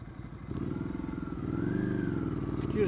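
A Ducati Scrambler motorcycle ridden over bumps on a firm suspension setting: a steady, close engine drone that swells after the first half-second, with light clattering and rattling over the bumps.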